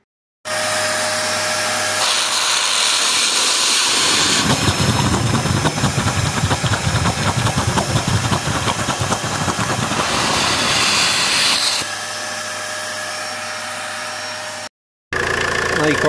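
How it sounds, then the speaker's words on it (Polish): A steady, droning diesel car engine runs nearby throughout, with a rougher rattling stretch in the middle and a brief cutout near the end, during glow plug replacement. "Silnik odpalony, bo musi być ciepły"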